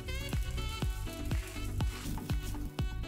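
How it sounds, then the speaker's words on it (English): Soft continuous sizzling of a ham and cheese sandwich in a medium-hot pan, punctuated by several sharp clinks and scrapes at irregular intervals, close by with no voices. "And you can definitely hear it sizzle."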